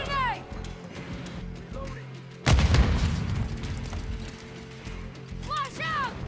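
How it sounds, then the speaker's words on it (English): A contact grenade explodes in Call of Duty: Modern Warfare II, a sudden loud, close boom with a rumbling tail. It cuts through ongoing game sounds and radio-style voice callouts. "Contact grenade!"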